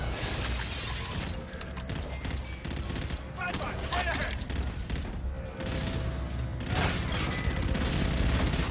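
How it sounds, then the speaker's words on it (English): Incoming enemy gunfire in Call of Duty: Infinite Warfare rattles as a steady barrage of shots and impacts, loud and constant, with a player talking over the din. "Ooh, they're really shooting me."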